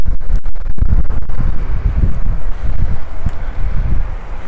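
Wind gusting on a hilly street in Port d'Andratx, Mallorca, with loud low rumbling buffeting against the microphone, a few sharp thumps at the start, then steady blustery noise throughout.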